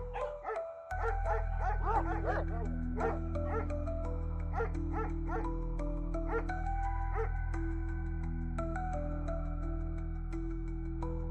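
A dog barks and yips repeatedly in a steady run of sharp calls over a constant droning hum, presented as a sound effect in an audiobook.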